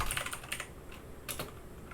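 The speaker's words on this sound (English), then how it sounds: "So I'll just type in sample event" Someone types on a computer keyboard, sending a quick, irregular patter of soft key clicks heard close up with no talking.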